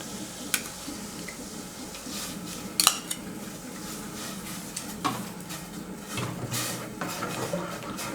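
A utensil scrapes and clinks against a metal pot of simmering curry at irregular moments, with quiet bubbling in the background.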